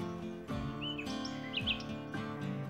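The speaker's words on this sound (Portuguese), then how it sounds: "esse canto dos pássaros, estão ouvindo?" Birds sing near a long stone staircase up to a church, bright chirps and short whistled phrases over a steady humming tonal background, moderately close and without speech.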